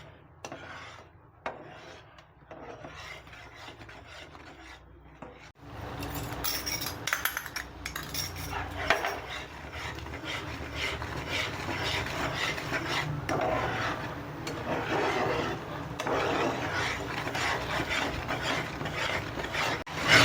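A utensil scrapes and rubs steadily in a pan of milk and jaggery stirred over a medium gas flame, quiet at first and then a continuous rasping texture, with no talk.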